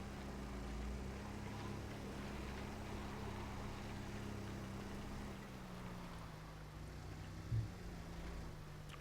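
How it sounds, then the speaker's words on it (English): A low, steady tier 5 car engine drone in the game Scrap Mechanic hums on without a break, with a faint, slightly odd tonal whine layered over it. "the tier 5 engine just sounds weird. It's like an alien."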